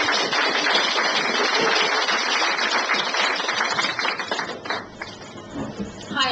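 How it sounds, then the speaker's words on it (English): An audience at a talk event claps in a sustained, dense wash of applause that eases slightly toward the end. "So if you want to just give Roisin a round of applause."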